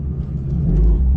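A BMW F82 M4 race car's engine passes loudly on a racetrack, a deep rumbling roar that swells and grows closer across the short moment.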